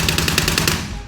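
Gunfire during a veteran medical training exercise: a quick rhythmic burst of automatic shots, loud and continuous through the whole short moment, with no talking.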